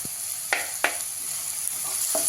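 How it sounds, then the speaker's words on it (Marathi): Green peas, beans and grated carrot sautéing in a pan give a continuous close hiss of sizzling, with a few brief scrapes and knocks as the vegetables are turned. "सगळं थोडंसं परतून घेऊया"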